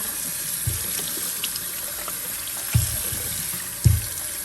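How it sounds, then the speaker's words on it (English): A washable air filter is rinsed under running water, a close steady hiss of spray with a few soft splashes and thumps. "So I'm going to rinse the outside a little bit."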